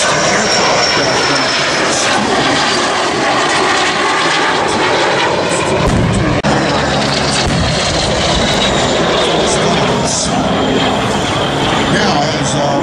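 An AT-6 warbird airplane flying at the Sun 'n Fun 2012 airshow, its loud propeller engine droning steadily overhead and shifting in pitch as it passes, with an announcer talking over it.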